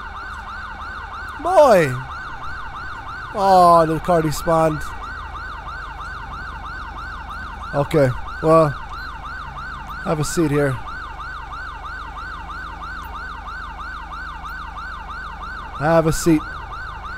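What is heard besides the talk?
police car siren in video game GTA 5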